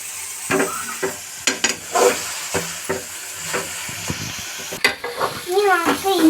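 A spoon scrapes and stirs frying egg curry masala in a pan, with soft sizzling between the irregular clatters and a brief voice near the end.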